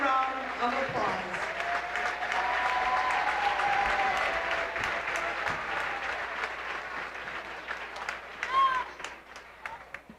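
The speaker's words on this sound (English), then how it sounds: "Let's give them one more round of applause." Spectators in a high school gym at a Prairie Heights vs Fremont boys basketball game applaud the homecoming court in a loud, sustained wash that slowly tapers off near the end, with a few voices rising over it.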